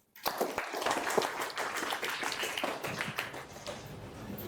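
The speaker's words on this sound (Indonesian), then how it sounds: "tepuk tangan untuk Mbak Ara" Students in a university classroom applaud a classmate, a burst of scattered clapping that starts abruptly and continues at moderate, slightly distant volume.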